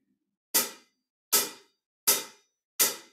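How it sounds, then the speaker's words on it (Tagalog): Closed hi-hat on a drum kit, struck with a wrist-and-arm whip-like motion in a beginner drum lesson: four crisp, short, evenly spaced ticks, close and alone. "closed hi-hats. Ganito ang tunog niyan."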